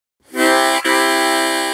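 A single loud harmonica chord blown out on an exhale, starting cleanly after a brief silence and sustained steadily with a momentary dip partway through.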